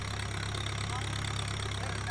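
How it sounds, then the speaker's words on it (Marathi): A tractor engine runs steadily while dragging soil over a net in a farm field, a constant mid-low idling drone with a faint knocking pulse throughout, close and continuous with no voices. "हे ट्रॅक्टरच्या सहाय्याने अशी जाळीवर माती ओढणं सुरू"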